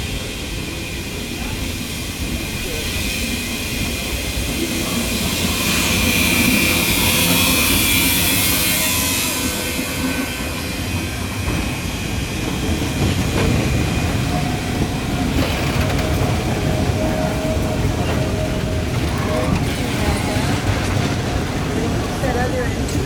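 A train engine runs with a loud, steady rumble nearby, swelling briefly in the middle, with faint voices talking under it.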